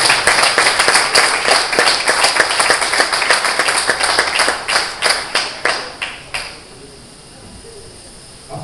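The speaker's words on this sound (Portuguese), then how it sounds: "Aplauda o Senhor Jesus" Congregation in an Assembly of God church applauding during a weekday teaching service, loud rhythmic claps in unison that gradually weaken and end abruptly, leaving a quiet room.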